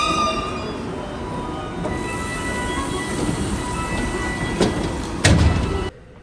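An electric train pulling away from Takatsuki station, a steady rolling rumble with a brief squeal and clunk near the end, heard from inside the carriage before the sound cuts off.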